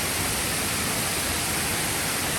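Kroeng Krawia waterfall in Sangkhla Buri, Kanchanaburi, heard as a steady, dense broadband roar of falling water that fills the whole moment without change, close and loud, with no voices.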